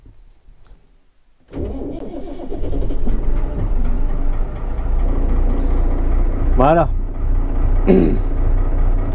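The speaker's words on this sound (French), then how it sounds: "Ça fait quelques temps que le tracteur n'a pas tourné, donc faut lui laisser le temps de reprendre son souffle un peu." A farm tractor's engine, left unused for some time, cranks and catches, then settles into a loud, steady diesel idle with a couple of brief whirring bursts; a voice speaks briefly.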